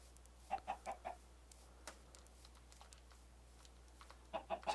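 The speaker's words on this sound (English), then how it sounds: "Come on, chicken." Minecraft chicken clucking in a game world, a quick run of three soft clucks followed later by another short cluster, fairly quiet over a low steady background hum.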